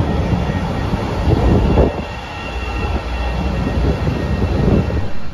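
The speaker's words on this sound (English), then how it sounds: "My Red Line train is about to get here" A Chicago CTA Red Line train arriving, rumbling loudly close by, with a steady mechanical roar and rattling wheels on the tracks, no talking.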